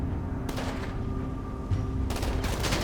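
Gunfire in the video game GTA 5 comes in two sharp bursts of rapid shots, each ringing out and fading, against a steady low game hum.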